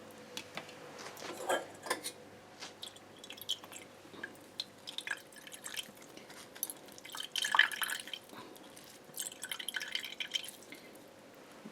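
Thick squeezed coconut milk, strained by hand for Jaffna pal puttu, drips and trickles in an irregular patter of small wet splashes, close and fairly quiet.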